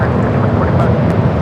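An Alaska Airlines airplane passing makes a loud, dense jet rumble heavy in the low end, continuous over a short span.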